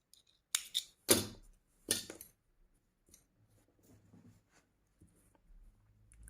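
Scissors cut thread after a crochet chain on a Tunisian-style needle lace motif, with a quick cluster of close, crisp snips early on, then fading faint handling noises.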